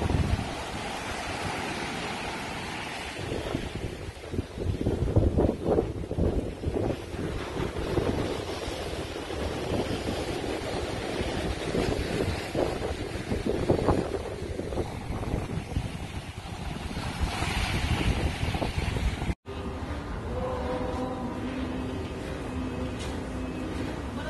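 Strong seaside wind roars and buffets the microphone at a coastal ashram, a continuous heavy rumble with surf-like swells, then a sudden cut to calmer wind near the end.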